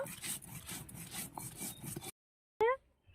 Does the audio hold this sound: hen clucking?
no